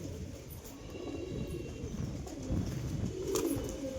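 A pigeon in a loft coos in low, rolling murmurs, a steady continuous purring throb that swells slightly toward the end, close and moderately loud.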